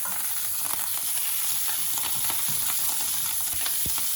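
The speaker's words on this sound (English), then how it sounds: "I'm going to give that a quick stir" Onions, thyme and garlic sizzling in a pan beside rib of beef as they are stirred, a constant close hiss with soft scraping knocks and a clack near the end.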